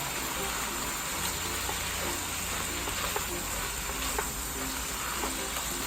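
Onions and carrots sizzle steadily with bulgogi beef in a hot pan, a dense continuous frying hiss with faint scattered crackles and occasional stirring clicks, close and even throughout.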